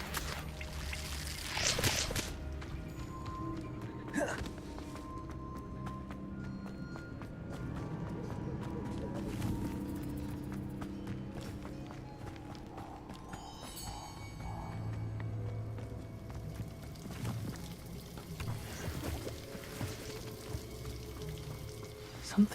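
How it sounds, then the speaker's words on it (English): A waterfall in the video game Hogwarts Legacy pours in a steady, rushing wash of water, continuous and moderately loud, with footsteps, faint game effects and brief spoken lines over it. "The waterfall."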